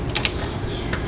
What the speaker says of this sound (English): Got my torque wrench